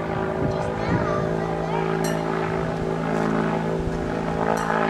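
Goodyear blimp flying overhead above a town, its steady propeller engine drone carrying throughout at moderate distance, with faint background voices and ambient noise.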